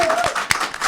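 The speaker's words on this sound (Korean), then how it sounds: "박수로 모시겠습니다" Studio audience applause welcoming a returning guest professor onto a Korean talk show, a steady burst of clapping under a host's voice with one sharp louder clap midway.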